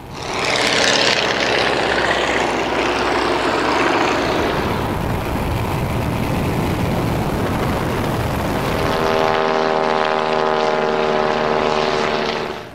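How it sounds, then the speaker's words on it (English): Propeller engines of a WW1 Bristol fighter and German triplanes in a dogfight roar loudly and continuously. The engine pitch rises and falls as the aircraft manoeuvre, ending in a steady droning tone. "desperate struggle now develops high in the sky as the Bristol pilot tries to avoid the three triplanes intent on shooting him down."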